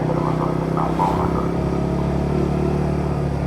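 A nearly two-year-old motorcycle's engine runs steadily at a constant, close rumble while riding, with a slight rise in revs near the start.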